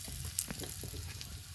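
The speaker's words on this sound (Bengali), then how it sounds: "এই দেখো তেলে প্রথমে দিয়ে সরিয়ে দেবো, এই যে তাতে কী হবে, অল্প তেলে আমার বড়াটা সব ভাজা হয়ে যাবে" Red amaranth leaf fritters sizzle steadily as they shallow fry in a little oil, a continuous close crackle with small pops throughout.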